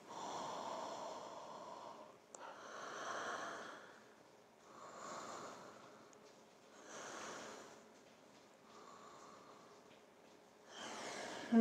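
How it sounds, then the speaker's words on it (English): Deep inhales through hands cupped over the nose during a yoga flow, several slow breathy rushes spaced a few seconds apart, soft and close with quiet gaps between. "cupping our hands over our nose and taking three big inhales"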